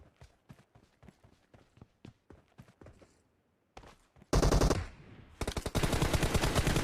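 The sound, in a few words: gunfire in an arena shooter video game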